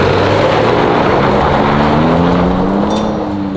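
A 4x4 Jeep and a Tacoma driving fast on a dirt trail, a loud continuous engine roar with rising and falling pitch as the engine revs, plus a strong rush of wind, close and steady throughout.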